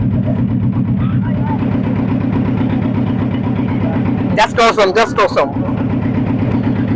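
A small riverboat motor on the Ichamati river near the Taki Rajbari ghat chugs in a steady, continuous idle-like drone throughout, with a brief burst of speech cutting in over it near the end.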